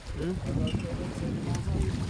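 Wind and sea waves rush steadily around a small fishing boat near an island out at sea, a constant close, blustery wash with faint voices in the background.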